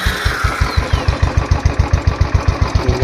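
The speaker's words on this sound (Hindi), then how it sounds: "आवाज़ आपको अपनी बाइक की हम सुनाते हैं" Royal Enfield Classic 500 motorcycle fitted with an angular silencer, its single-cylinder engine thumping in a steady, even rhythm at idle, loud and close with no voices.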